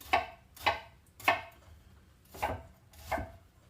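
A knife chops onions on a board in five distinct, fairly loud thuds, spaced about half a second apart with a longer pause in the middle, in a quiet room with no talking.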